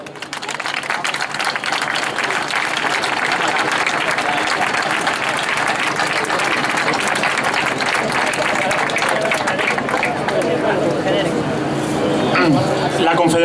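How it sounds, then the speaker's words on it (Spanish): Sustained, dense applause from a crowd at an outdoor workers' rally for the World Day for Decent Work, steady and loud throughout with voices mixed in. "Pedimos un fuerte aplauso."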